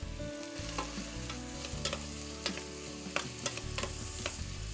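Onions sizzle in coconut oil while being stirred in a single pan: a steady frying hiss with repeated scraping strokes of the utensil and a low hum underneath.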